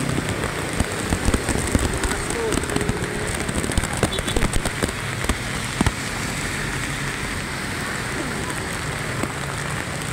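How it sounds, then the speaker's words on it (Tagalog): Strong typhoon floodwater rushes past a bridge on a flooded route toward Quezon City, a dense, steady roar with scattered crackling splashes throughout. "Malakas, oh. Ito, ang lakas. Ang lakas ng baha."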